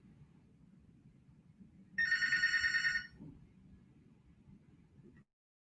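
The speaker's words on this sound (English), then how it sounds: "The phone was ringing." A telephone rings indoors during a live-streamed talk: one loud electronic ring burst lasting about a second, close and clear over faint room noise, followed by quiet before the sound cuts off.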